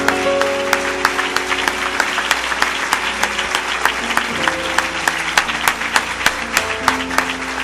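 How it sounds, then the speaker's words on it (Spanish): A church congregation breaks into loud, sustained applause during a service, with many hands clapping at close range and a few sharp individual claps cutting through. "Aplaudimos la presencia de Dios"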